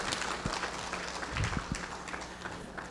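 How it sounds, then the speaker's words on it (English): A crowd at a live-streamed community event gives a round of applause: a steady, fairly distant wash of clapping with a few sharper individual claps and no voices. "We'll give them another round of applause."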